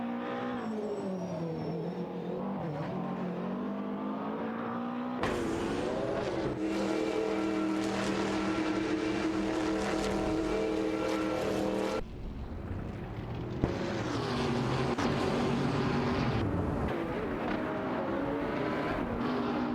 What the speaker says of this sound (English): Glad to have you joining us again for some thrilling AI race car action.